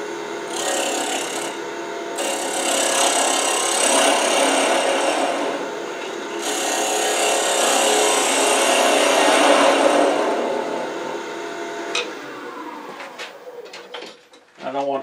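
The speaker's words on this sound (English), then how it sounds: "I'm going to use a 3/8 inch bar spindle gouge with a fairly blunt grind because it will shear and scrape at the same time" A 3/8 inch bar spindle gouge with a blunt grind shears and scrapes wood on a lathe while turning a salt shaker, a continuous raspy, rubbing cut that swells and eases in long passes before trailing off into quieter handling.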